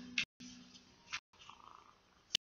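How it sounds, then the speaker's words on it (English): A purring kitten, close by, broken into short soft bursts with brief sharp sounds between them and no voices over it. "Aw, you're purring!"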